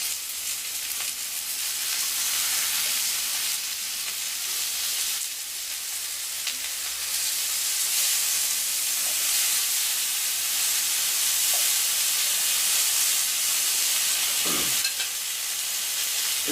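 Kangaroo steaks sizzle steadily in hot olive oil in a pan, a loud, continuous frying hiss that carries on unbroken, with a brief scrape or thump late on as the steaks are flipped.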